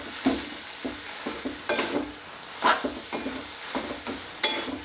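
A spoon stirs boiled bheto greens with dried shrimp in a pan, giving irregular scraping strokes and soft clinks over a faint sizzle, close and fairly quiet.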